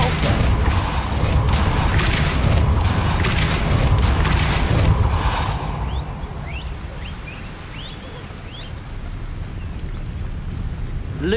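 Depulso spell cast in Hogwarts Legacy, a dense crackling, rumbling surge of magical force lasting several seconds that then subsides into a quieter ambience dotted with faint chirps.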